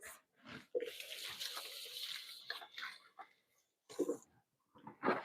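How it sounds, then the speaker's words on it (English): A kitchen tap runs while hands are rinsed under the stream, a quiet splashing rush that breaks off and resumes in short bursts. "I'm going to give my hands a quick rinse."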